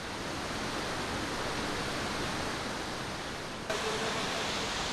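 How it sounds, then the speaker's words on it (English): A waterfall in a green Moroccan oasis roars as a steady, dense wash of falling water, heard close and continuous without pause or voices. "I walk to the middle of the waterfall by following a trail along the cliff."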